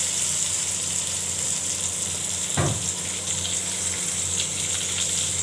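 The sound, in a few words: pointed gourd (potol) frying in a pan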